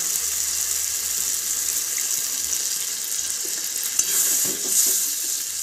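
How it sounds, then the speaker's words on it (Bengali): Water poured into a pan of sizzling tomato chicken, a steady hiss and bubbling sizzle with a brief splash and surge of crackling toward the end, no one talking. "এবার এর মধ্যে একটুখানি জল দিয়ে দেবো চিকেনটা সেদ্ধ হওয়ার জন্য"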